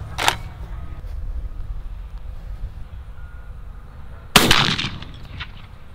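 A shotgun loaded with 3-inch heavy metal four shot fires twice at an outdoor target, two sharp cracks some seconds apart with the second louder and followed by a brief echo.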